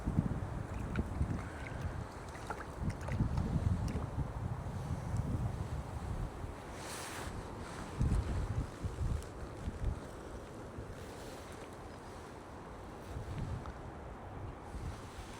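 Steady wind buffets the microphone outdoors at a pond during ultralight fishing, a continuous loud rushing roar with gusty swells and low rumble throughout.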